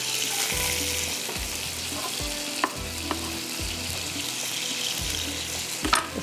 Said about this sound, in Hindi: इसको फ्राई करते हैं और इसका लगा देते हैं तड़का